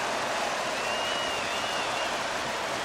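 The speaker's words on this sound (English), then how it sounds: "And the crowd back alive here inside the stadium." An arena crowd in the NHL 23 hockey game gives a dense, steady roar of cheering and applause, a constant wash of noise without pauses.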